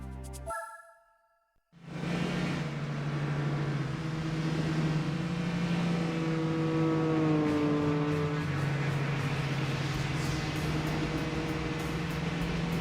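Renault Clio Sport V6 hatchback in Gran Turismo 4, its engine droning steadily and loudly after a brief quiet start, pitch holding fairly constant with a slight rise and dip midway, no talk over it.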